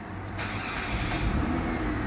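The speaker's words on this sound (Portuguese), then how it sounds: "Deixa eu dar a partida nele aqui." A 1998 Mitsubishi Galant VR starting up: steady engine noise with a broadband mid-range roar that rises after a brief moment and holds as the motor settles into a smooth idle, close and fairly loud, no talking.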